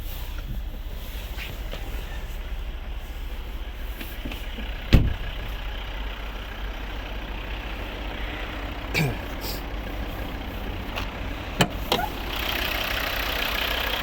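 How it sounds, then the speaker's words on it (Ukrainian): A 2013 Volvo V60 2.0 D3 five-cylinder diesel with automatic gearbox idles steadily with a low, even hum. A few sharp clicks and knocks from the car sound briefly over it. "Подивимося, як працює наш двигун."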